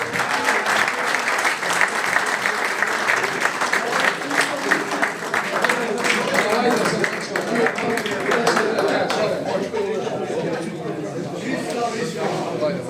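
Sustained applause from an audience at a TEDx evening gathering honouring footballers, steady and dense clapping filling the whole stretch with no pause, loud and close.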